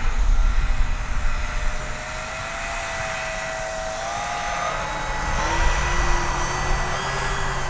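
An E-flite EC-1500 RC airplane drones past slowly with flaps down, its steady electric motor whine rising and falling gently in pitch as it crosses, fairly close and alone without talk.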